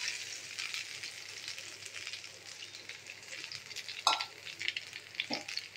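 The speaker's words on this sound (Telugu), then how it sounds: "ఇప్పుడు ఆనియన్స్ వేసేసుకున్నాం" Sliced onions fry in a pan with a soft, steady sizzle and a fine crackle, fairly quiet and close, with a couple of sharper utensil clinks near the end and no voices.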